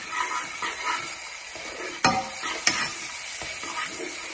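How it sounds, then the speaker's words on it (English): Food fries in a pan for a tomato sauce, a continuous close sizzle with a few sharp scraping clicks as it is stirred, no voices. "We're gonna fry this until it's tender and slightly golden brown."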